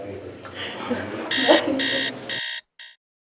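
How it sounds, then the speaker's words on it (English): Alarm clock going off, a rhythmic series of buzzing beeps in evenly spaced bursts, loud and close, starting over background speech and ending abruptly. "That moment, my alarm went off"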